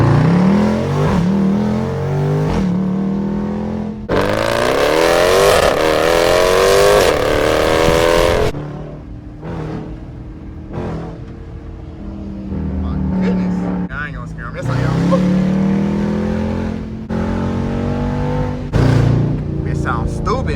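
A modified SRT Jeep in track mode revs hard and accelerates, its engine roaring loud and near in rising bursts with lifts between pulls, while someone talks over it at times.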